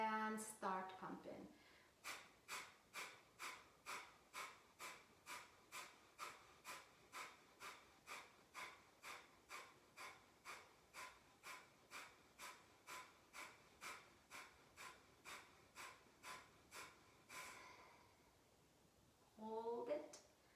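Rapid, evenly spaced forceful nasal exhalations of yoga fire breath, roughly thirty sharp pumping puffs in a steady fast rhythm, close and clear, with a brief instructor's voice at the start and end.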